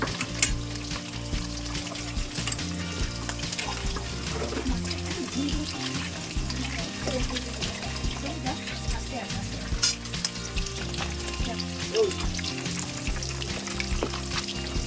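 Continuous crackling sizzle of katla fish pieces frying in oil, with stirring scrapes and a low background hum throughout.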